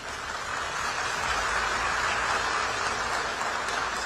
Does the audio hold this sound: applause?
yes